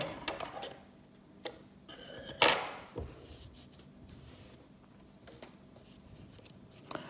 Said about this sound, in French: On coupe une bonne longueur pour pouvoir le coudre à la base.